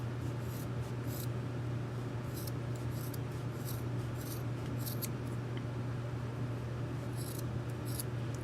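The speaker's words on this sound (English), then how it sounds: "we're going to start snipping on this side as well" Scissors snipping through pom-pom yarn while making a rug, with repeated short crisp cuts in irregular bursts over a steady low background hum, close and fairly quiet, with no speech.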